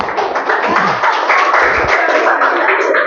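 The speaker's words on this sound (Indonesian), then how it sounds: "Oke, tepuk tangan, ya." A classroom of students claps hands together for a few seconds, a dense burst of many overlapping claps with voices mixed in.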